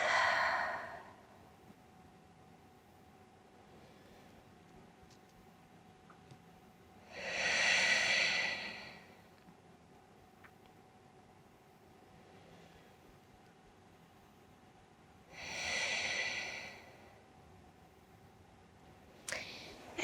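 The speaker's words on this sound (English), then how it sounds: "And breathing here." Slow, deep breaths during a yoga leg flow: three long, airy exhalations spaced about eight seconds apart, close and fairly loud against a quiet room, with no talking between them.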